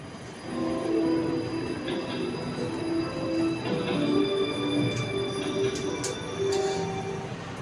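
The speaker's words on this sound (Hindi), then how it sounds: "चलो ट्रेन तो चला गया हमारा।" A metro train at Ernakulam station pulls away, a steady rumbling roll with faint wheel squeal and whining tones heard from the platform at moderate distance, with a few light clicks near the end and no talk.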